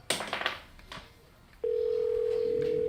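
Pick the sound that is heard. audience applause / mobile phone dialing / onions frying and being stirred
mobile phone dialing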